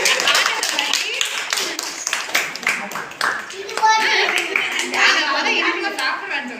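People clap their hands in a lively rhythm under loud overlapping voices, including a child's, the claps sharp and close, running steadily through the whole stretch.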